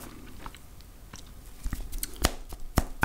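Crunchy pan pizza is bitten and chewed up close, with sharp crackling crunches coming irregularly and growing louder toward the end.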